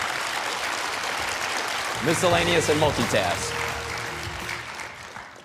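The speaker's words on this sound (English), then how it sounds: "round of applause" Applause from an audience at the AEC 2026 Ergo Cup awards ceremony rises under a speaker's amplified voice announcing the next category, then fades out.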